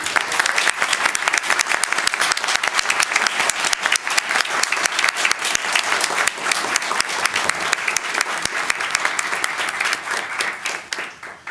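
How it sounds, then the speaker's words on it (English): A room full of people at a Chicago Transit Board meeting breaks into long sustained applause, dense rapid clapping holding steady for over ten seconds before tapering off at the end. "How about a round of applause for all of them?"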